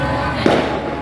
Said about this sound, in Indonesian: ya biarkan ada mercon ini